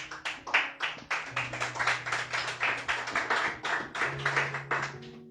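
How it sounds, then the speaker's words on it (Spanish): Church congregation clapping together in steady, rhythmic applause, dense and fairly close, with a sustained organ or keyboard tone underneath and no talk. "Dele fuerte aplauso al Señor"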